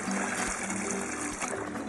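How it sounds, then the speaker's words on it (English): Water trickles and splashes steadily as it is poured into a Groasis Waterboxx plant cocoon while planting trees, a close, continuous dribble with no talking. "Most of the water's going into this hole and down these two holes, which are going to fill the box."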